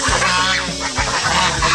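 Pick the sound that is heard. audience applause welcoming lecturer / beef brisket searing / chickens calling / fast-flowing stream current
chickens calling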